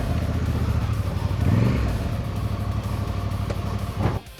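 A Honda Africa Twin adventure motorcycle on a test ride, its engine humming steadily and close with a brief rise in revs partway through before easing off at the end.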